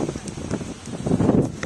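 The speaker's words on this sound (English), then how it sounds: "can't hear you because of the wind" Wind gusts outdoors at Golf Del Sur, Tenerife, buffeting the microphone as a steady, rough rumble that swells toward the end, with muffled voices mixed into the noise.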